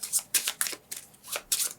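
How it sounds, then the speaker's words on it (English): A deck of guard cards from the board game Resist! is shuffled close up, giving repeated crisp riffling bursts in an uneven rhythm. "we're going to have to shuffle a little bit because we are out of guard cards"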